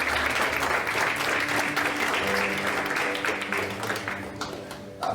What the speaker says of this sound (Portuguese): Uma salva de palmas aqui para as nossas unidades.